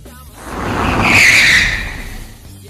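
Car braking hard without ABS, locked tires skidding in a long squeal that swells to a loud peak and then fades, heard alone.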